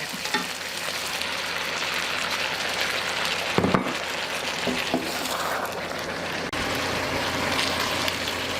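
Meat returned to a hot pan of Singapore chow mein rice noodles, a loud continuous sizzle with stirring scrapes and a brief clatter midway, no talking.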